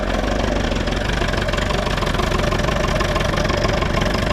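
A Perkins 4P diesel engine in a Manitou MT 425 telehandler runs after a cold start in -15 °C frost. It makes a steady, close, knocking idle rumble that continues without a break, with no talking over it.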